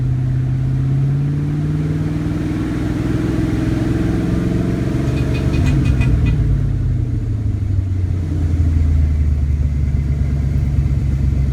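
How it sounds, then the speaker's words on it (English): A 1993 Ford Mustang LX 5.0 convertible with an automatic transmission, heard close up as the engine drones and rises, then dips and climbs again as it shifts from drive into overdrive, with no one talking. "when I do shift it from drive to overdrive, it shifts another gear"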